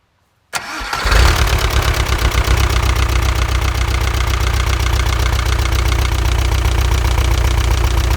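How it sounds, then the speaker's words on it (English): A van engine, freshly fitted with a new cam, cranks and catches, then idles at around 1800 RPM with a loud, steady rumble and a rapid ticking, knocking rhythm throughout. "The van is running."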